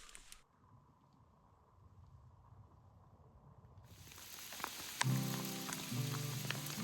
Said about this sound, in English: Alright, the storm's here, a bunch of hail.